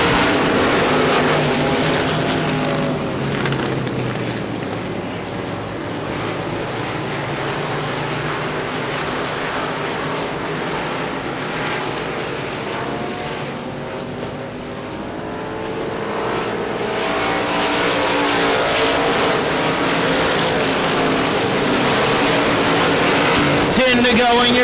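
USA Limited Modified race cars roaring around Devils Bowl Speedway, a loud continuous engine drone that swells and fades as the pack passes, with an announcer talking over it.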